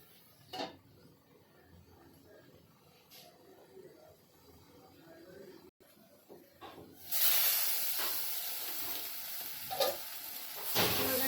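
A tomato and spice masala steams under a lid in a pan, first a faint low simmer with soft clinks, then a steady, louder hiss of sizzling and steam for the rest.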